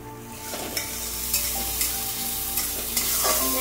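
Moong dal being stirred with water in a hot pan, a continuous sizzle with rhythmic spoon strokes scraping the pan about every half second, close and clear.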